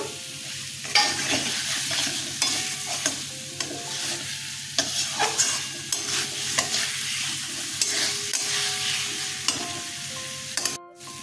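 Potatoes sautéing with spices in a pan for a Bengali sarputi fish curry, a steady soft sizzle under repeated scraping stirs of a spatula, close and continuous with no voices.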